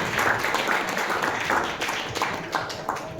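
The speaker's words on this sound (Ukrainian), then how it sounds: "вітаємо оплесками пана Сергія Дім'янова та Василя Шарня" Audience applauding at a Ukrainian International Day of Meditation event at the Indian embassy in Kyiv, a steady, dense wash of clapping hands filling the room without pause.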